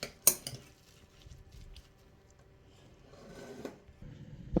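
A spoon stirs grated zucchini with salt in a bowl, giving soft scraping and a few sharp clinks of metal against the bowl, quiet and close.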